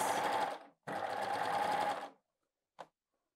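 Sewing machine stitching fabric in two steady bursts of whirring, the first under a second and the second about a second long, followed by a brief faint click, all close and with no talk.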